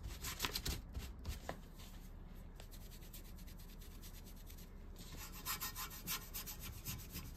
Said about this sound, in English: Just going to scrub it in here.